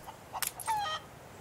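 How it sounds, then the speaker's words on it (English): Chickens on a wheat farm in the city-building game Anno 1800 give a brief burst of clucking and a short squawk over a low, steady game ambience. "apparently we've got chickens on the wheat farm"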